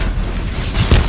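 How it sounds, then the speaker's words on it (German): Explosion and gunfire in the Call of Duty: Advanced Warfare campaign in a forest, a short burst of rumbling blasts with one heavy boom near the end. "Beschuss von links! Beschuss von links!"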